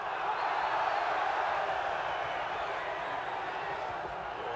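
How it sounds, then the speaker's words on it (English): A British boxing crowd at a Marvin Hagler versus Alan Minter fight sends up a broad, sustained roar, a dense continuous wash of voices that tapers slightly toward the end. "You'll hear this British crowd roar with every exchange"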